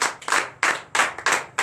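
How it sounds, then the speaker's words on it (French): A church congregation claps during a Friday night deliverance and prophecy service, loud and close, in short rhythmic bursts of several hands striking together. "Donnez l'acclamation au Seigneur Jésus."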